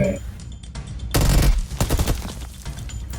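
Rapid bursts of PUBG gunfire, loud and dense, with automatic rattling shots overlapping and continuing over background noise.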